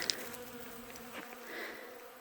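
Honeybees buzzing close by while gathering pollen from early spring blooms, a soft steady drone with a few brief louder passes.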